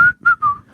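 A person whistles three short, clear tones in quick succession, each held briefly with small gaps between, close to the microphone, with faint room noise beneath.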